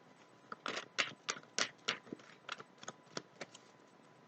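Crisp papery flicks and riffles of tarot cards being shuffled by hand, a quick irregular run of soft snaps, close and clear with no talking.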